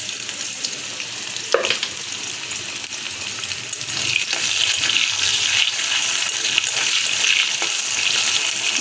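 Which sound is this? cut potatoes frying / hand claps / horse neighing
cut potatoes frying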